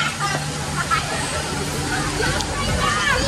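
Pool water sloshing and splashing steadily at Maria Nature's Park, a busy outdoor resort with a grill going nearby, with crowd babble and nearby voices talking over it throughout.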